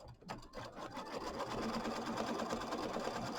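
Embroidery machine stitching the fabric tack-down on a small quilt, heard up close as a steady, fast mechanical hum of stitching that settles into an even rhythm after a few soft handling sounds, with no voices.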